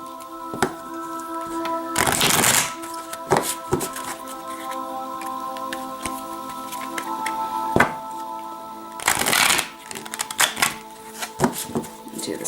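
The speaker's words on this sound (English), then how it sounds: "I'm just going to shuffle the deck until I feel that energy shift" Cards being shuffled in several bursts of rapid riffling and fluttering, separated by soft taps and thumps, up close with no voices.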